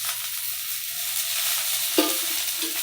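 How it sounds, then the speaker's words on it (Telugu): Green chilies fry in hot oil for peanut chutney, a steady, close sizzle running throughout with a brief scrape of stirring near the end. "వేగిపోయి పచ్చిమిర్చి."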